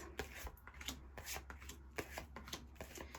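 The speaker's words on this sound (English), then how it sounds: "Another way that you can make sure that you shuffle your cards really efficiently is to place them down into 7 piles." Playing cards are shuffled and slapped down into piles in a quick run of soft, close taps and rubs, faint and continuous over a few seconds.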